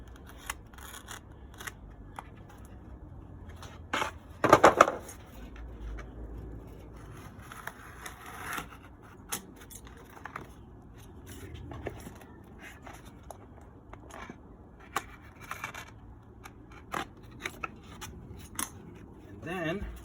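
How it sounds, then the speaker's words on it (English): A razor blade cutting a veneer piece along the grain during a mid-century modern nightstand makeover, with sharp scraping slices, one louder burst of cutting early on and scattered small clicks and rubs nearby. "just cut piece out with my razor blade"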